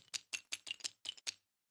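Playing cards riffling through a card shuffler, a quick faint run of about seven sharp clicking bursts over roughly a second and a half, then silence.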